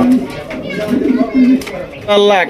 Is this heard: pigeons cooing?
yes